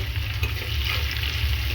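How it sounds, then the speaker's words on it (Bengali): Potato pieces fry in hot oil with salt and turmeric, giving a continuous close sizzle with a low bubbling rumble and no talking. "আলুটা একটু ভেজে নিচ্ছি প্রথমে নুন আর হলুদ একটু ভেজে নেব"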